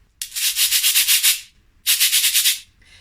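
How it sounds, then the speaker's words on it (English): A cabasa is rubbed in two bursts of scraping, rasping texture standing in for someone munching toast: a longer stroke of about a second and a half, a short pause, then a second stroke, close and fairly loud with no voices. "one of the instruments that I use in my story is the cabasa."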